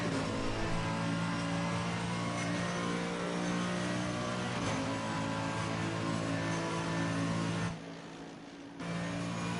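A Mercedes AMG GT3 V8 race car in Assetto Corsa Competizione at Bathurst drones steadily at high revs, loud and continuous, dipping briefly near the end before resuming.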